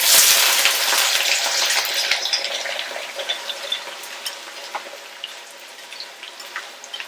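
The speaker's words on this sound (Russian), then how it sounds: "я начну обжаривать лук" Loud sizzling and crackling as onions hit hot oil in a kazan for Uzbek plov, an intense hiss at first that settles into steady frying with scattered pops.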